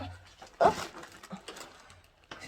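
Sky, a female dog told to wait and not come down, lets out a short, sharp whimpering burst with quiet panting breaths around it. Faint and close, the sound is mostly alone.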